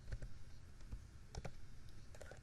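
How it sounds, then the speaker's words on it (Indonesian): A computer keyboard being typed on while a script is written, with soft, irregular clusters of key clicks heard up close and no voices. "menulis mengetik script."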